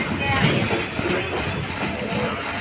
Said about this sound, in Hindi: भाई ट्रेन काफ़ी स्लो है।